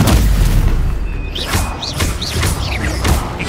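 A Stupefy spell is cast in the video game Hogwarts Legacy, making a loud, booming burst followed by several whooshing, zinging magical bursts in quick succession amid heavy low rumble.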